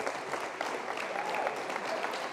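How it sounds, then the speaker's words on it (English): An audience at a college candidate forum gives a round of applause, thick steady clapping from many people held at an even level throughout. "now you can do your round of applause"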